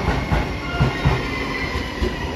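A JR Shikoku 7200 series local train on the Yosan Line rolls past at a station, a loud, close rumble with rhythmic wheel clicks over rail joints throughout.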